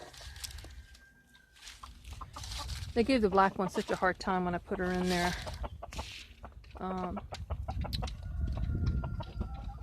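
Silkie chickens trill and cluck in a close, busy burst of calls, with a person speaking over them and faint rustling between.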